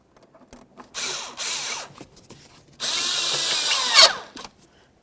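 A power tool whirs in bursts while tightening the air intake hose clamp on a 2007-2017 Ford Expedition, a short buzz followed by a longer sustained run, close up with no talking.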